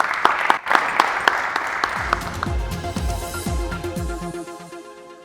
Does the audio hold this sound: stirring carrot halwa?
no